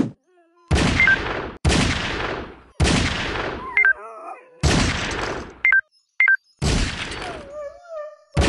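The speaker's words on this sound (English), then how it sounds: "Out of bullets. Swipe down to reload." Gunfire from a circus-themed shooting video game: loud, dense bursts of shots in repeated runs with short gaps between them, with small electronic chimes and tones heard in the pauses.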